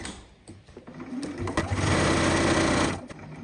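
A sewing machine back stitching an envelope pillow cover starts with a few slow clicks, then whirs steadily at close range for about a second and a half before slowing and stopping.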